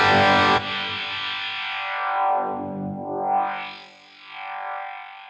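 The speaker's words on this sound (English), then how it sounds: "I've got this listen button that I can click that I can find specific frequencies." An electric guitar run through an EQ plugin's listen mode, its tone narrowed to a single band that sweeps down and back up, giving a filtered, hollow, distorted sound after a brief full-range opening chord.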